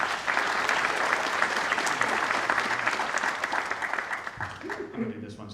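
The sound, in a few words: audience applause for a speaker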